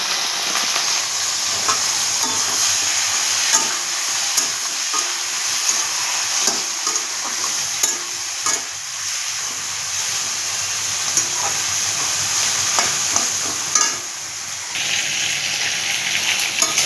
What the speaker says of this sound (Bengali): তেলটা আমার গরম হয়ে গেছে, এবার চিংড়ি মাছগুলো দিয়ে তেলে দিয়ে দেব।